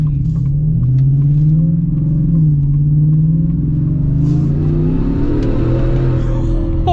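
Deep, loud exhaust rumble from a lowered 2025 Black Widow Ford F-150 truck, engine revving and pulling steadily as it accelerates, the pitch climbing through a continuous drone.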